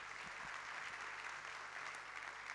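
Faint, distant applause from an audience at a tourism awards evening in Pau for the company's employees, a continuous even wash of clapping throughout.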